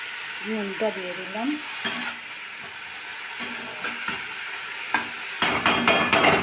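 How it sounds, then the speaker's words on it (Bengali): Leafy greens seasoned with turmeric and salt are stirred and fried in a pan, producing a constant close sizzle broken by scraping stirs. The stirring grows busier and louder toward the end. "শাকটা আমার একটু নাড়াচাড়া করলেই শাকটা হয়ে যাবে।"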